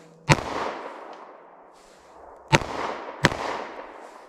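Three loud shots from a short-barrel revolver firing .38 Special +P Speer Gold Dot rounds at an outdoor range, each sharp crack followed by a rolling echo, irregularly spaced with no talking.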